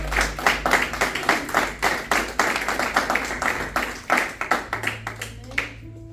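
A church congregation claps in a rough, quick rhythm, many distinct sharp claps close together and fairly loud, thinning out near the end as a sustained tone enters underneath.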